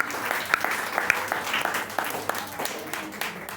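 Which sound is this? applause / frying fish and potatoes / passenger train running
applause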